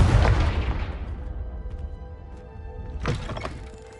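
A Confringo blasting spell in Hogwarts Legacy detonates with a loud booming explosion that rumbles away over a second or two, followed by a second, smaller crashing burst near the end.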